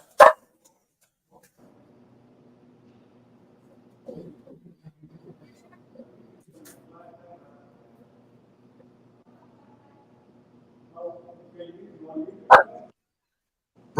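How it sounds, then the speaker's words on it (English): Dogs, one named Snow, growl in low, drawn-out rumbles, with sharp loud bursts at the start and near the end. "we having a doggy growling competition with Snow"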